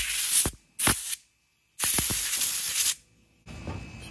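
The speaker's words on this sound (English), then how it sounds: "Spray this side down, soap and water." Several short bursts of soapy water spray hiss from a nozzle onto a tire valve, separated by brief pauses, close and fairly loud.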